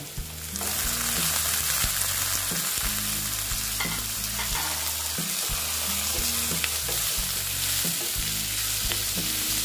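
Chopped tomato sizzles in a pan with ginger and garlic, a steady, close frying hiss with occasional stirring clatter, while soft music plays underneath.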